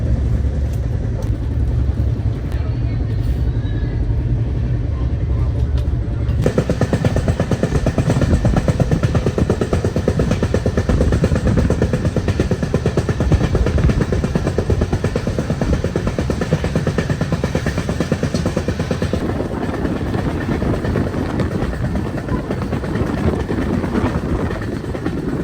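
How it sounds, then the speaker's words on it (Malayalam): A long-distance Bengaluru to Delhi passenger train rolls along the rails, heard from inside the coach as a continuous loud rumble and rattle with no voices, growing noticeably heavier partway through. "ഉച്ചയ്ക്ക് എടുത്ത ട്രെയിൻ ഇതാ കുറേ ദൂരങ്ങൾ പിന്നിട്ട് വൈകിട്ടായി"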